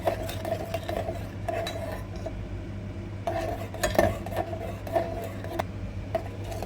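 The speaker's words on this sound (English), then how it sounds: "Add 5 to 6 tablespoons of sugar" A dessert mixture of sugar dissolving in water is stirred in a pot, with a spoon scraping and clinking against the metal in an irregular rhythm over a steady low hum, close and moderately loud.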